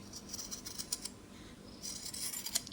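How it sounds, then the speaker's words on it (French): Sewing scissors cut a rounded curve into fabric for a small coin purse flap, giving a string of quiet crisp snips and rustling blade noise, faint and close, with no talk. "je prends mes ciseaux et je vais venir faire un joli arrondi"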